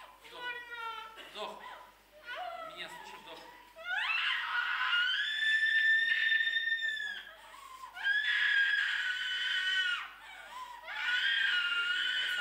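A person screams loudly in sustained, strained bursts during a group emotional-release exercise, with shorter vocal cries at the start and three long, intense screams separated by brief breaths.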